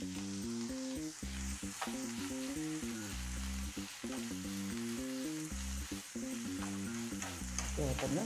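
Corn and rice frying in butter while being stirred, a soft hiss under loud rhythmic background music.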